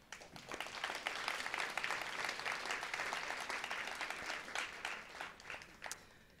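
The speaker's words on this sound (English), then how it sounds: "Please give yourselves a round of applause." An audience at a Women's History Month gathering claps together in a sustained round of applause, dense and even before tapering off near the end, heard from within the room.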